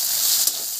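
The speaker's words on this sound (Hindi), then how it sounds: "तो थोड़ी देर इसमें लहसुन में भून जाएगा अच्छे से" Crushed garlic sizzles in hot oil in a pan, cooked with pointed gourd (parwal) in a home kitchen, giving a steady, close, bright frying hiss with one brief tap midway.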